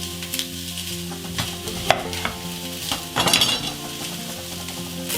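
Turkey pieces browning in a pot for broth give a steady close sizzle, broken by scraping stirs and a few metal clinks against the pot; no voices.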